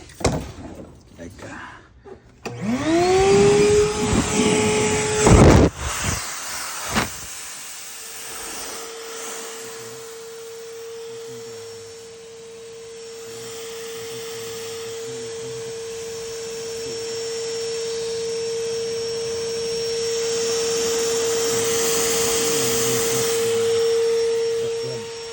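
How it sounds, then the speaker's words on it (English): Vacuum cleaner used to clear a clogged air conditioner drainage line: a few knocks and a whirring spin-up, then a steady, loud droning hum that carries on, with a voice faintly present. "Going to use the vacuum to push it here, so that to unclog"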